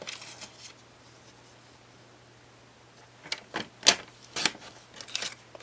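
Paper being cut for a triple pop-out fun-fold card: after a quiet start, a handful of short crisp snips and slicing strokes come close and clear in irregular bursts, with a faint steady hum underneath.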